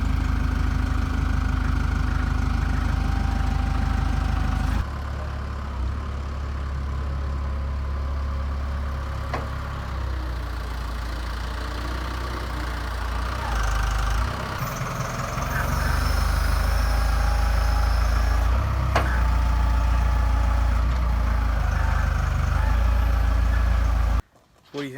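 A small rat rod engine of roughly 50 horsepower cranks over and catches, then settles into a loud, steady, rough idle close by, with a brief cutout near the end.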